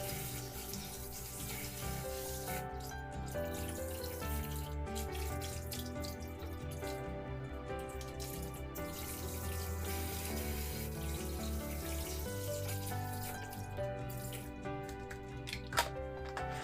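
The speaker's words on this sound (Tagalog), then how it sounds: "Bago ang lahat, kailangang hugasan nating mabuti ang ating mga prutas at gulay." Tap water runs steadily into a sink while fruits and vegetables are washed for a cleansing salad, a continuous soft splashing stream with faint clinks and drips, fairly quiet and without speech.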